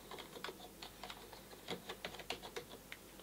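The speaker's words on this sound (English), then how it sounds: "Let's test the keyboard decibel levels." Rapid typing on a Marvo Scorpion KM409 rainbow LED USB gaming keyboard, a quick irregular patter of light key clicks heard close up and fairly quiet, with no voices.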